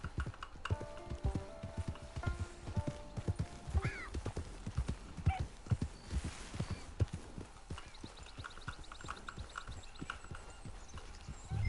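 Galloping horse in Red Dead Redemption 2, with steady, rapid hoofbeats close by and a few brief snorts layered over a faint game soundscape.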